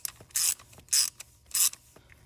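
Bolts are driven into a VW Audi Gen 3 1.8 TSI engine with a ratcheting hand tool, heard as three short bursts of rapid ratchet clicking separated by quiet pauses, close and clear with faint small knocks in between.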